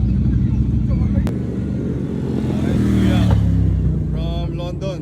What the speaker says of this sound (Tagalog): Ito na yung motor niya.